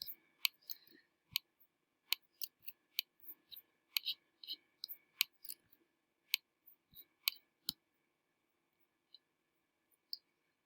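A computer mouse clicks repeatedly during 3D robot and house modelling work, with sharp, close, dry clicks in an irregular rhythm and some quick double clicks, thinning out toward the end with quiet gaps between them.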